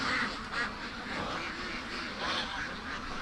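Free-range ducks in a flooded swamp quack excitedly and continuously, a dense chorus of overlapping calls at moderate distance.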